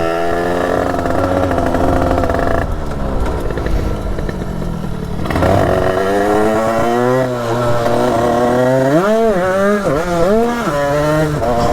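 A Derbi 70 motorcycle engine revs hard and steadily during a wheelie. The loud two-stroke whine climbs and falls in pitch, then rises through several quick rev surges near the end, with no voices.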